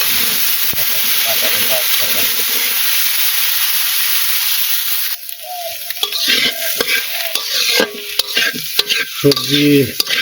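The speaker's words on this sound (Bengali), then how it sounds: "কষে নিলাম সবজি কষানো হচ্ছে" Vegetables stir-frying in a pan in a village kitchen, a steady loud sizzle for the first half, then stirring scrapes and clatter over a softer sizzle.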